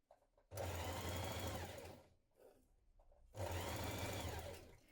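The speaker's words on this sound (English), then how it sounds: "Now hem the bottom of your frill." A sewing machine hems the bottom of a skirt frill for a summer dress in two loud, close bursts of rapid stitching, separated by a short quiet pause with faint handling sounds.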